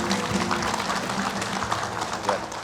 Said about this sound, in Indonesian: Tepuk tangan ibu-ibu boleh.